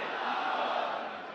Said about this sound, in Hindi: इधर बहुत भीड़ हो गई है।